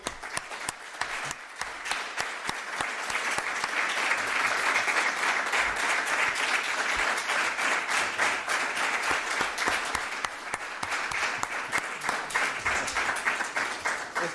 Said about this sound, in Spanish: quiero que todos los que estemos aquí le demos un nuevo aplauso por este libro